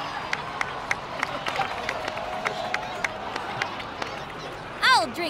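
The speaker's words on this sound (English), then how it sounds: "So, please give another round of applause for them." Crowd applause in the Genshin Impact video game, a sparse patter of claps and cheers under a murmuring game crowd, ending in a brief whooping call near the close.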